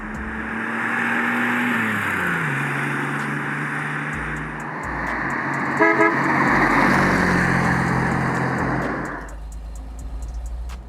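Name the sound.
1963 Chevrolet Corvair Monza Spyder turbo car on test drive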